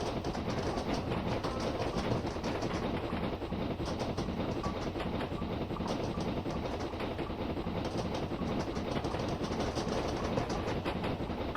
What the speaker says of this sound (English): I'm getting some good speed this time. I'm actually happy with the way the train is performing.